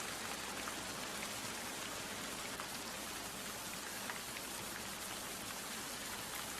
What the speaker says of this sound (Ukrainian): А ось почав накрапати дощик.